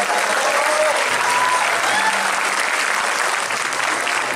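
An audience at a memorial tribute concert claps for the band's drummer in a continuous, evenly loud wash of hand claps with a light crowd murmur under it, heard nearby and without talking.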